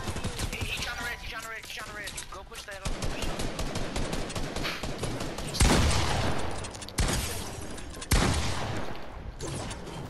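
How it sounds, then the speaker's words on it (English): Enemy gunfire in Fortnite cracks out in rapid bursts and sharp single shots, loud and close, over a busy game soundscape. "I can't while this dude shooting at me."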